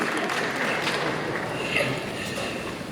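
Applause from the teacher section at a high school valedictory ceremony, a steady dense wash of clapping from a crowd holding level for the whole stretch.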